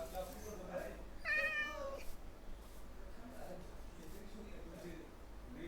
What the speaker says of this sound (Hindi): दूसरी प्यारी बिल्ली।